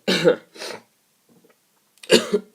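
A few harsh, close coughs: two quick ones, a pause, then another cough, with no talk around them.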